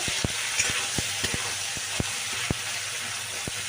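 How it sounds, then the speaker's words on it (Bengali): Ginger and green chili paste fries in oil with a steady, bright sizzle, and quick sharp clicks of a spatula or spoon stirring it recur at irregular intervals throughout. "এখন আদা কাঁচা লঙ্কাটা একটু তেলের সাথে এর সাথে একটু ভাজা ভাজা করে নিচ্ছি"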